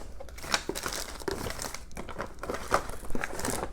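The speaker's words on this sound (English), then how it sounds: "I will be using this double-sided tape, foam tape." Double-sided foam tape for card making is handled close up, giving soft, irregular crinkling and crackling of backing and foam with no voices.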